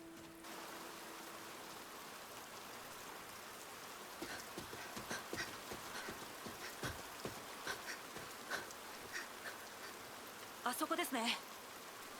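Rain falls steadily in an anime scene, a soft continuous hiss with scattered sharper drops and taps, quiet, with a brief line of talk near the end.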